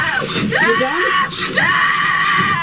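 A girl screams on a school bus, a loud, sustained, wavering shriek that rises and falls in pitch with brief catches, close and continuous throughout.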